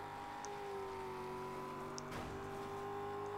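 Race cars in Gear Club Unlimited hum along at a steady engine drone, fairly quiet and constant, with a brief whoosh as another car passes midway.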